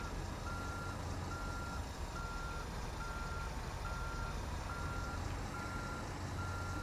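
Steady repeating reversing beeps from a heavy truck backing up in American Truck Simulator, evenly spaced tones over a constant low engine rumble, with no talking.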